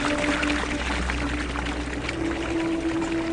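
Water being poured into model Inca irrigation channels, a steady close splashing gush that flows on without a break, with a faint tonal hum in the background.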